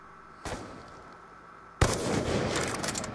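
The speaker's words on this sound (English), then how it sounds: "here's test fire" Test fire in a video game: a faint distant shot followed about a second later by a louder, sharper gunshot that rings out with a lingering tail.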